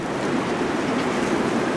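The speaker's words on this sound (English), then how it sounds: "proper windy today." Steady, dense roar of strong wind buffeting outdoors, broad and unbroken throughout with no pauses.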